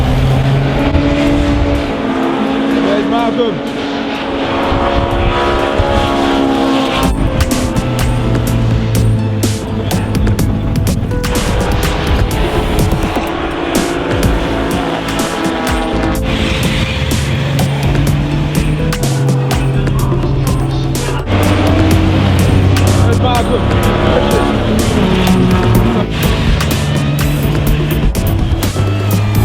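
Race cars at the Silverstone circuit roar past and idle near the pits, a loud continuous engine drone with shifting pitch and passing surges, while someone speaks briefly over it.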